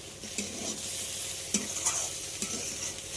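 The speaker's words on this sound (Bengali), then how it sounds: "আবারও 1-2 মিনিট মতো কষিয়ে নেব সব কিছু" Eggplant, beans, potato and chopped tomato sizzle steadily in a pan while a spatula stirs them, giving a few sharp scraping strokes over the continuous frying hiss.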